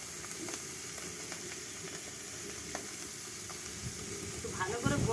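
Small mourola fish frying in hot oil in an outdoor kitchen, with a continuous loud sizzle and hiss throughout, growing into louder spattering and crackling near the end.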